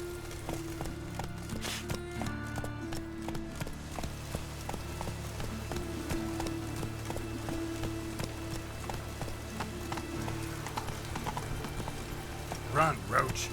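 Roach, the horse in The Witcher 3, gallops through a city with quick repeated hoofbeats in a steady rhythm over game ambience, and a brief rise in the sound near the end.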